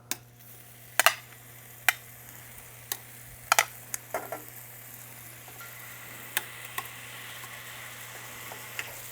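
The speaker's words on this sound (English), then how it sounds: "Now we will plop in our beef heart." Beef heart sears in an oiled pan with a soft background sizzle. Scattered sharp pops and clicks break through it, along with a low steady hum.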